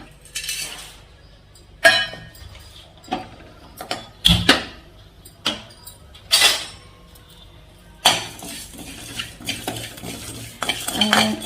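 Cumin seeds, fennel seeds and dried red chillies are dry roasted in a pan, with a spoon scraping and clinking against the metal in irregular bursts. The stirring is close and moderately loud, with no speech over it.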